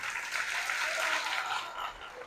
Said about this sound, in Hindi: ताली बजा के परमेश्वर का स्वागत करें।